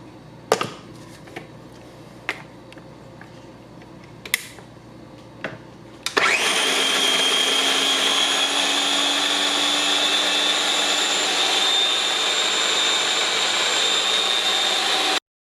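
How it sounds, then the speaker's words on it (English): A countertop blender purees canned chickpeas. A few light clicks and taps come first, then the motor kicks in abruptly and runs as a loud, sustained, high whirring grind until the end. "take your can of chickpeas and put it into the blender. And you are going to blend it until you cannot blend anymore."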